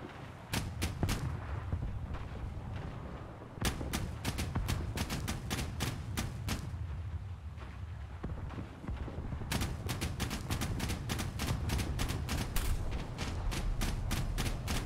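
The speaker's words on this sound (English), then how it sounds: "Any day now, AA guns." Anti-aircraft guns in a video game pound out rapid, loud broadband bursts in clustered volleys, with a few pauses between barrages over a steady low rumble.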